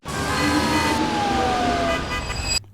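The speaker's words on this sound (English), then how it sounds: "the last sound effect is this riser that I used in the beginning" A film sound-design riser sweeps steadily through a dense, loud wash of layered tones, one gliding pitch sliding downward as it builds, then cutting off sharply near the end.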